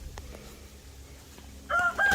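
A rooster starts to crow near the end, loud and close, over faint background noise.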